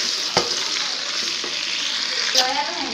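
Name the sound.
whole spices frying in oil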